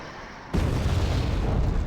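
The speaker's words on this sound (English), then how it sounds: "there goes the bombs on the bridge" Bombs hitting a bridge in the real-time strategy game Wargame: Red Dragon, a sudden loud boom after a brief quiet lead-in, followed by a rumbling, sustained roar of explosions.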